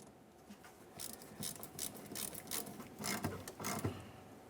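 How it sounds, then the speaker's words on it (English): An 8mm socket ratchet tightening the fuel tank filler neck clamp on a 2000-2006 Chevrolet Tahoe, rapid quiet clicking pawl strokes in uneven bursts, close and without speech. "Resecure your clamp using your 8mm socket."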